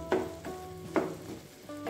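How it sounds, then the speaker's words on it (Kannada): Tomatoes fry in a pan for a tomato and green chilli chutney: a quiet, low sizzle broken by three or four soft, evenly spaced stirring scrapes, with no talking. "ಟೊಮೆಟೊ ಎಲ್ಲ ಚೆನ್ನಾಗಿ ಬೆಂದು ಫ್ರೈ ಆಗಿದೆ."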